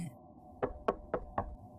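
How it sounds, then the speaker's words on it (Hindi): Four evenly spaced knocks sound at night on a kitchen window, sharp but faint, each separated by a short pause in a quiet room. "मेरे किचन की खिड़की कौन खटखटा रहा है?"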